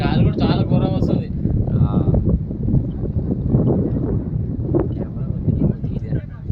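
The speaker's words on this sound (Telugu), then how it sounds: "గాలి కూడా చాలా ఘోరం వస్తుంది." Strong wind gusting across an open cricket ground, a heavy low rumble buffeting the microphone throughout while people talk over it.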